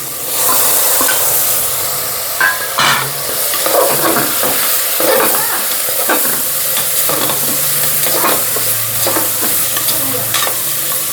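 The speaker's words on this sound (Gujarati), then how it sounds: "અને આ દીધો વઘાર" Mustard seeds and cumin crackle and sizzle in hot oil for a vegetable tempering (vaghar), a loud, steady frying hiss with scattered pops and stirring scrapes throughout, no voices.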